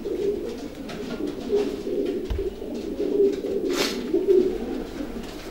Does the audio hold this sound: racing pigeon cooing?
yes